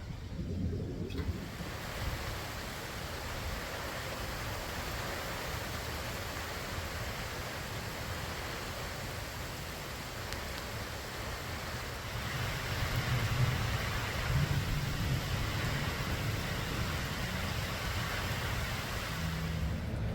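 Steady heavy rain with low rumbling, like a thunderstorm, a broad continuous wash that swells slightly louder in the second half; no voices.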